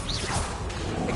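A quick whooshing magical swish of the Stupefy spell being cast in Hogwarts Legacy, short and close with a soft impact.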